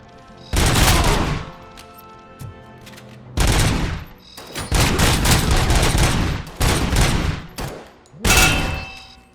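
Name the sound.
gunfire in the video game Robocop: Rogue City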